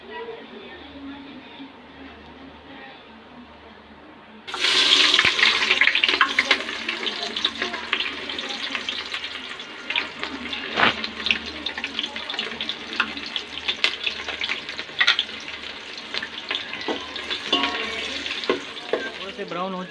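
Chopped onions dropped into hot oil for Charsadda-style mota chawal set off a sudden loud sizzle after a few quiet seconds, then a steady crackling hiss with popping spatters while a voice talks over it.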